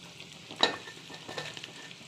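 Dry fish frying in a pan as onions go in around it: a soft, steady sizzle with a sharp clatter of stirring or the onions landing near the start and lighter scraping bursts later, no voices.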